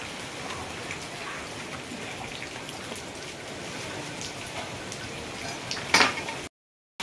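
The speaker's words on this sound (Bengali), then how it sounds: "বৃষ্টি থামার কোনো নামই নাই, আর তো বৃষ্টি খালি বাড়তে আসছে বাড়তে আসছে।" Heavy cyclone rain pours steadily, a dense hiss of drops drumming on surfaces with faint clinks, close and continuous, briefly louder near the end before cutting to silence.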